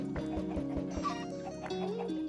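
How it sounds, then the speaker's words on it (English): Minecraft chickens cluck in a short run of repeated blocky game calls, close and clear over steady in-game background music. "Oh, and there's chickens here."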